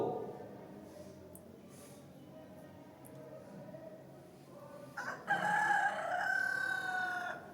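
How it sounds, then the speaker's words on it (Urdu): A rooster crows loudly toward the end, a strained, drawn-out call rising over a quiet room tone during an indoor lesson. "وہ مرغا پھر بولنے لگا ہے"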